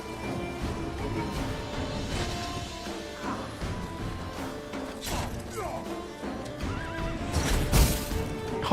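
Horse in The Witcher 3: Wild Hunt neighing loudly and kicking, with repeated whinnies, hoof clops and impact thuds over a busy game soundscape.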